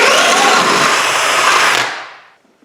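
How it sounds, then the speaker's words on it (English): A power drill runs continuously at high speed while boring a 1/2 inch hole for a toggle bolt, loud and steady, then winds down and stops near the end. "now we'll go ahead and drill this 1/2 inch and see if it's big enough"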